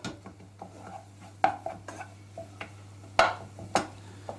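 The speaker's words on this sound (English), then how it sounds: "all we need to do is just cook this a little bit, cook the rawness out of the flour" Flour cooks in a pan as the start of a bechamel sauce for British lasagna, with a soft low hum beneath a handful of sharp utensil clinks and scrapes against the pan, close and unhurried, no speech.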